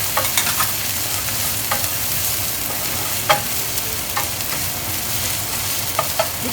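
Garlic stir-fried in hot sesame oil with ginger for a spicy eggplant and tofu dish, a steady, close crackling sizzle broken by a few sharp scraping stirs.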